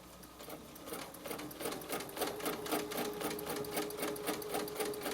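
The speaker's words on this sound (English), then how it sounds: "We are going to stitch" A sewing machine stitches a pillow design, running in a steady, fast rhythmic whir-clatter that holds at an even level throughout.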